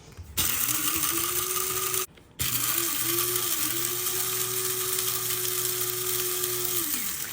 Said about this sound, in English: I kind of have this coffee grinder that I use just for like grinding flax or grinding my sourdough starter